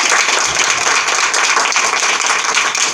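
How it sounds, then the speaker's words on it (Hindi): An audience applauds for a staff member named Rita at an International Women's Day event held by a women's cell, with loud, dense clapping that holds steady the whole time and no talk over it. "रीटा मैम के लिए आप तालियां बजा दीजिए"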